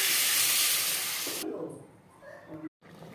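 Water poured into a hot pan of fig and egg curry sets off a loud, sharp sizzling hiss that cuts off abruptly, followed by quieter bubbling and clinking, then a brief dropout.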